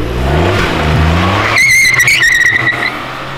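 A Honda Civic Si drives hard with a loud engine roar, then tires squeal sharply in a rising, warbling screech for over a second before fading under the engine.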